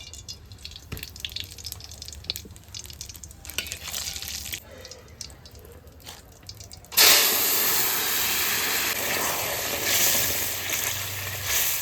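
Eggplant dropped into hot oil with radhuni seed tempering: after several seconds of quiet kitchen clinks, a sudden loud, close sizzle bursts up and keeps hissing steadily to the end.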